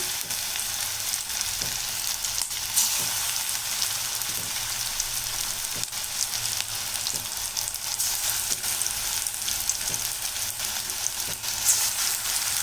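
Small rava bonda batter balls deep-fry in hot oil with a loud, steady, dense sizzle and crackle that runs throughout, close up with no talking.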